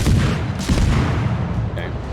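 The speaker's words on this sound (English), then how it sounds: "Fire on the enemy warship." Warship guns firing in the naval game World of Warships, heavy booming blasts and rumbling low thuds in a dense cluster, loud and close over a continuous battle roar.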